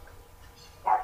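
A single short dog bark sounds near the end, faint and somewhat distant, with no one talking over it.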